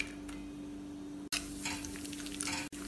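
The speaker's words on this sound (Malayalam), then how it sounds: "നെയ്യ് ചൂടാവുമ്പോൾ അതിലേക്ക് കുറച്ച് അണ്ടിപ്പരിപ്പ് 2ആയി പിളർന്നിട്ട് വറുത്തെടുക്കാം" Halved cashew nuts frying in hot ghee in a pan for fruit payasam, giving a close, steady crackling sizzle with light ticking pops and two brief dropouts.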